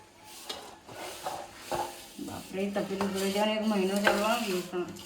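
A spoon stirs a mix of grated coconut, edible gum, cashews and almonds in a pan, giving soft scraping and clinking that grows busier in the second half, with voices talking over it.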